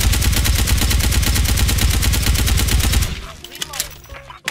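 A Galil White rifle in Special Force 2 fires a sustained rapid automatic burst of loud, tight, evenly spaced shots for about three seconds, then stops, leaving faint game noise and clicks.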